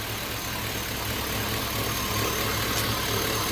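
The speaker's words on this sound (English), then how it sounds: "Engine sounds good." A 5.3L LS swapped engine idles steadily in an S10 truck, a low, even rumble with a constant exhaust drone, close and continuous with no voices.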